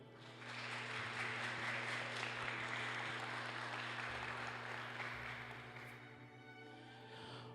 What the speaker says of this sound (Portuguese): eu peço que, com uma salva de palmas, nós possamos saudar o professor doutor Reinaldo dos Santos